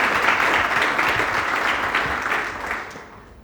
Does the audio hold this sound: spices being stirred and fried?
no